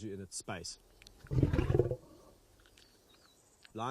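A lion roars once, a deep, rough, loud rumble lasting under a second, between short bursts of talk from people nearby.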